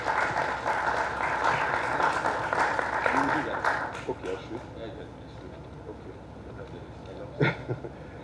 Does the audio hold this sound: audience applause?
yes